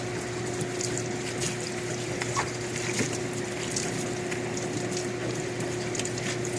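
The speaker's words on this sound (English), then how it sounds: "Now he's rinsing all the residue off." Water spraying at a washing station to rinse residue off a refurbished battery, a loud continuous hiss with a steady mechanical pump hum underneath, with no talking.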